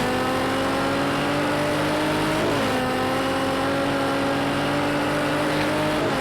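Engine note of a GT3 race car in a sim race at Oulton Park International climbing steadily under full throttle, loud and continuous, with one gear-change dip midway before the pitch rises again.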